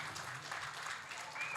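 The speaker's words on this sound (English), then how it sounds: "Give yourselves a round of applause." An audience at a horse racing seminar applauds, with steady, dense clapping holding at a moderate level throughout and nothing else standing out above it.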